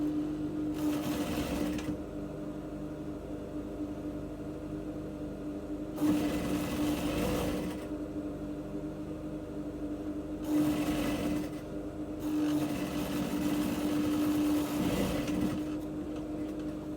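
A sewing machine stitches a corset in repeated bursts of steady, close running whir, each a couple of seconds long and separated by brief pauses.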